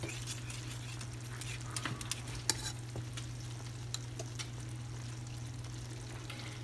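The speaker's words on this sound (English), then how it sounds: "I'm going to turn this down to low. Kind of let it simmer a bit." Gravy for egg foo young turned down to low to simmer in a pan, a faint, steady low sizzle with a few small clicks and stirring ticks, quiet and close, no talking.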